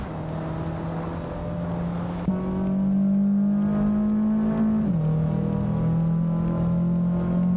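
Slow-class racing cars lapping a tight track at Lebanon, a steady droning engine note that jumps in pitch as one car accelerates and then drops as it shifts, continuous and fairly close with no talk.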